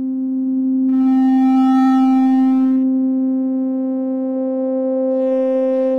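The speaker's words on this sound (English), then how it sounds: "And then I'll start sweeping the cutoff frequency." A synthesizer drones a steady bright tone while a high-resonance filter cutoff sweeps across it, making a whistling, singing resonant peak that rises and falls and loudly picks out the harmonics one after another, with no talking.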